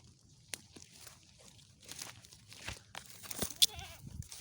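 A farm goat bleats nearby in short, wavering cries amid quiet rustling and a few scattered footsteps and crunches on the ground.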